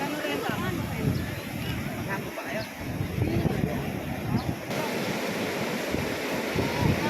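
Steady roar of surf breaking on Sabang Beach in Baler, Philippines, continuous and broad, with wind buffeting the microphone throughout.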